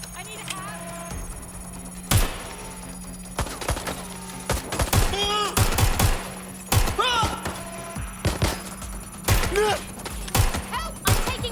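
Video game gunfire in Watch Dogs: Legion, bursts of shots and heavy thumps scattered through the clip over a steady background hum, with a character's voice calling out between the shots.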